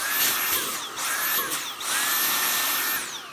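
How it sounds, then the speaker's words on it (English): A Shark IF250UK cordless vacuum cleaner runs with its suction blocked: a close, steady high-pitched motor whine that repeatedly cuts out and spins back up over a few seconds. "You can see it cuts out when you block the suction, it's meant to do that."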